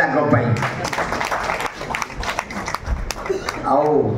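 An audience at the relaunch gathering of the Utkal Mail newspaper claps in short, scattered bursts, mixed with someone speaking loudly over the applause.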